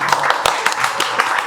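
A small group claps in a mobile repair lab to welcome a guest: a short run of quick, uneven hand claps, close and fairly loud, with a voice talking over them.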